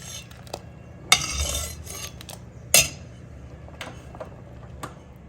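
White rice is served onto a plate, with a few sharp metallic clinks of a spoon against dishware and soft scraping between them, close by and with no speech.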